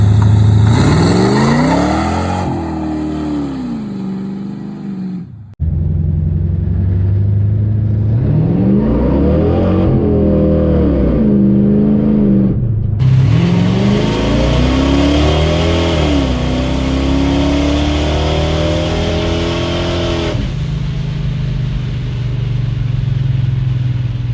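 A swapped-in V8 engine in a Chevrolet C10 truck runs loud and close, rumbling at idle then revving up and down in repeated throttle blips, with a brief drop before picking back up.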